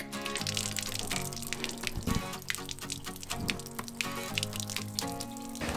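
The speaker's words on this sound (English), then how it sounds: "drain all of the water out of your holding tank" Water drains from a van's holding tank during winterizing, a close, irregular splashing and trickling flow with gurgling bursts and small drips, heard on its own.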